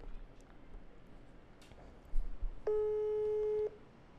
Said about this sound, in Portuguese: Tamo ligando aqui pro meu parceiro.